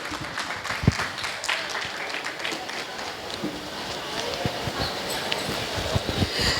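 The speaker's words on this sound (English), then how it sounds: "Big round of applause for all of them" An audience at a Bhavani Foundation blood donation camp claps, a scattered, uneven patter of hands with a few sharper individual claps, building slightly toward the end.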